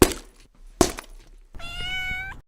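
A pet cat gives one clear, drawn-out meow lasting about a second, close to the microphone, after two sharp knocks or thumps.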